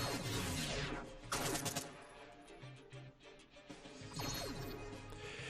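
Units trade fire in the strategy game Warborn Variable Armour Command: dense machine-gun bursts and blasts come in two or three loud waves, with impacts and clinks between them and no talk.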